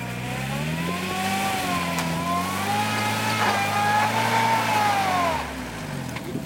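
A 1979 GMC 4x4 truck's engine revs while stuck in mud, with a steady drone that swells and wavers. It is moderately loud and sounds slightly distant.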